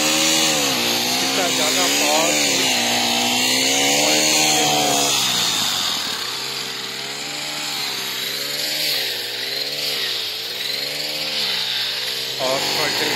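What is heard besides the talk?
Honda grass cutting machine running and cutting long grass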